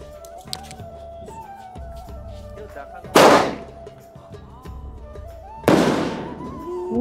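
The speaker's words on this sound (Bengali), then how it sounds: "এটা উপরে ফাটবে কিন্তু" Two loud Diwali firework shells burst in the sky, one a few seconds after the other, each a sharp boom trailing off into a crackling rumble, while voices chatter faintly in the background.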